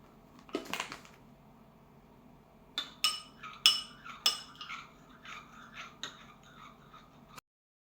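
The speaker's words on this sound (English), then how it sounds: "Then add starch and stir it again." A utensil stirring chicken coated in starch knocks against a bowl in a few quiet, scattered clinks, with near silence between them.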